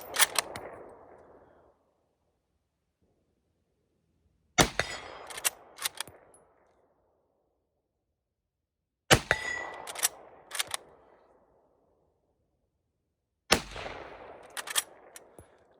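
Springfield and Enfield rifles fire at an outdoor range: four sharp, loud shots spaced about four seconds apart, each followed by quick metallic bolt clicks and a fading echo into quiet.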